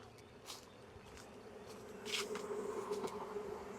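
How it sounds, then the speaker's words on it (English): A swarm of honeybees buzzing in a steady, faint hum, with a few individual bees droning closer and louder partway through. "That's a lot of bees."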